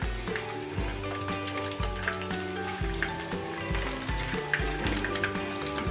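Dried red chillies and garlic fry in a pan for a ripe red chilli tomato pickle, a soft, steady sizzle heard up close, with low background music running underneath.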